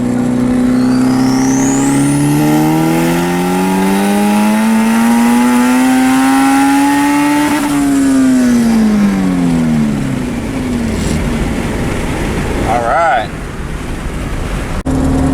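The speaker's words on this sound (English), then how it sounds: "That was a third gear pull. Felt like it made the same boost." A Honda tuned with a Hondata S300 makes a third-gear boost pull, the engine note climbing loud and steady for several seconds, then dropping as the throttle lifts, with a faint turbo whistle early and road and wind noise throughout.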